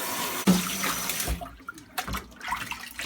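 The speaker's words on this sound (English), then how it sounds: "Give this a really quick rinse." Running water rinses the parts of a homemade HOB aquarium filter packed with polyester filling, a steady close splashing and trickling stream that shifts as the pieces move under the flow.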